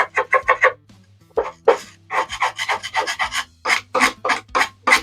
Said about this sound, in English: I'm going to see about scraping off some of this muck here